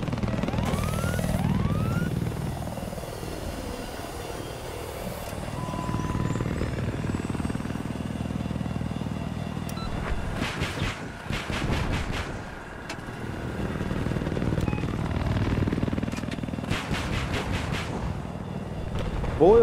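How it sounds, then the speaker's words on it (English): An attack helicopter flies in a 12v12 multiplayer video game match, its rotor drone swelling and fading as it passes, with sharp rapid bursts of weapon fire and talk over the top. "doing some work in the attack helo"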